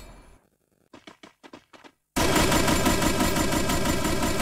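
Gunfire in the Free Fire battle-royale game: a few quiet separate shots, then a sudden loud, sustained burst of rapid automatic fire that continues to the end.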